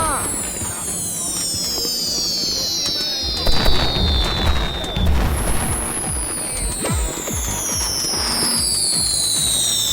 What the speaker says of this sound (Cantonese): 啲煙花咁樣放啊